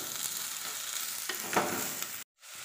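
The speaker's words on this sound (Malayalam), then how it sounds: "2 സവാള അരിഞ്ഞതും കൂടി ഇട്ട് കൊടുക്കുക. നല്ല പോലെ ഒന്ന് വഴറ്റാം." Two medium chopped onions sautéing in a pan for Kerala-style crab roast, a close continuous sizzle with brief stirring scrapes, cutting out for a moment near the end, no voices.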